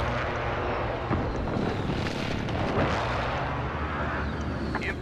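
An airstrike lands in a shooter video game: a roaring aircraft rush mixed with booming explosive impacts, loud and dense over a few seconds, with faint game chatter.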